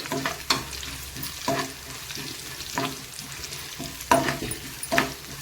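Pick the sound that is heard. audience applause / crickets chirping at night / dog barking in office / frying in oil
frying in oil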